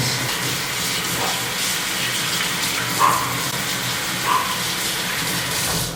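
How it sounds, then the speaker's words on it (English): Hands are washed under a running kitchen tap while making a sourdough starter, with water gushing in a steady, close hiss and a couple of brief splashes. "Wash my hands."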